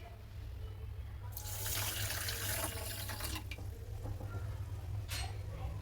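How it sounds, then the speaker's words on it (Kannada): Water pours steadily from a tap into a pot, a broad rushing splash over a constant low hum, with a brief extra splash near the end. "ಫುಲ್ ಒಂದು ನೀರು ಹಾಕ್ತಿದ್ದೇನೆ"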